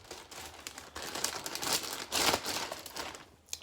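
A plastic bag holding shrimp being seasoned crinkles and rustles continuously in close, uneven bursts, with no talking.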